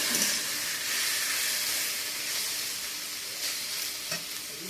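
Taro stolons and shrimp frying in a pan give a steady close sizzle, with scraping stir strokes running through it and no talk.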